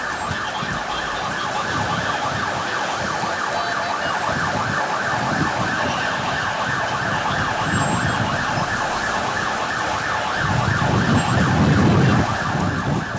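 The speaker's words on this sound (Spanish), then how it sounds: "Al sonido cruel y triste de la ambulancia" An ambulance siren wails continuously over a low rumble of traffic on a street in Honduras, holding steady with a louder engine surge near the end.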